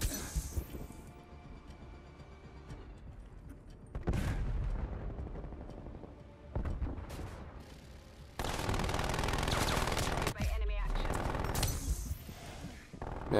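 Hostile sentry turrets in a video game fire in loud sustained bursts, with sharp clinks and booms between quieter stretches of game ambience.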